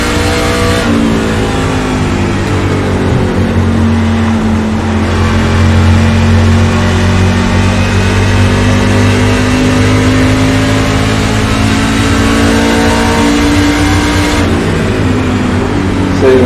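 Race car engine at full throttle, a loud continuous high-revving roar with rising and falling pitch through gear changes, close and dominating, with no talk.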